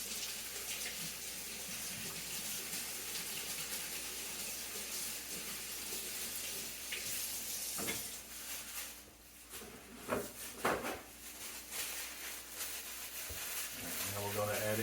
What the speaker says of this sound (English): Need to wash my hands.